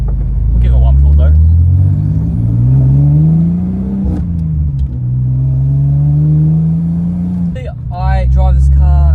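A Ford EB Falcon Fairmont accelerating hard, its engine note climbing loud and close in two long pulls with a gear change between, as heard from inside the car, with brief talk near the end.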